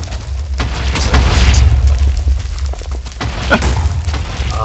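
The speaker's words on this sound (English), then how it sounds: "Somebody suggested randomizing the explosion radius." Loud, continuous booming explosions from a modded Minecraft game, overlapping rumbles that swell and fade across the whole stretch with no pauses.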